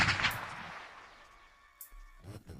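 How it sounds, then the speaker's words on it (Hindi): Gunshot sound effect for a dramatized crime story: a booming, reverberant shot that fades slowly, followed by a couple of quieter thumps near the end, with no talk. "अभिषेक ने निशाना साधकर उसके सिर पर गोली चला दी।"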